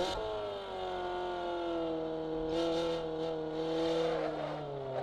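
BMW 325i E30 inline engine revving hard on a driven lap, pitch sweeping up and down through gear changes, loud and close from inside the car with tire and wind noise.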